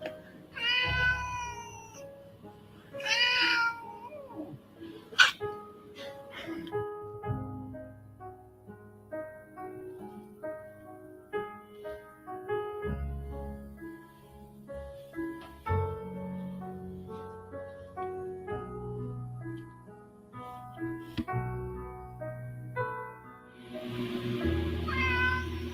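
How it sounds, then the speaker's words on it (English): A domestic cat meows repeatedly, with several clear close cries at the start and again near the end, separated by a stretch of soft tonal background sound. "Oh, you hear the kitty."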